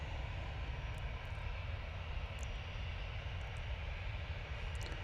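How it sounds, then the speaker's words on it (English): An EasyJet Airbus A319 inbound from Malaga comes in to land at an airport, its engines making a broad, steady roar that stays constant and fairly close throughout, with no voices. "Baby bus A319 coming in from Malaga"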